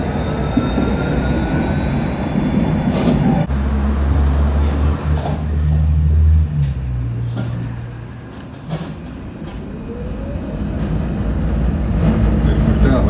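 A Košice tram rides across open fields toward the steelworks terminus, heard from inside: a loud rumbling rolling ride with wheel clatter, a rising low hum as it accelerates, easing and building again, with some faint talk.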